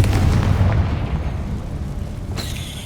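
Confringo, an explosive spell in Hogwarts Legacy, lets off a loud, sustained blast: a dense, booming roar with heavy low rumble that holds for nearly three seconds, plus a faint whine near the end.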